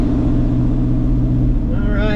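A 1981 Dodge D150 pickup with a 727 TorqueFlite transmission and a bad torque converter pulls away, its engine rumbling low and steady close by, then rising in pitch as it speeds up near the end.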